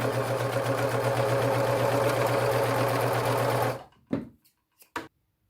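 A serger runs fast and steady, sewing the sleeves into a loosely knit sweater, with a loud, even whirring stitch for almost four seconds before stopping, followed by a few brief handling clicks.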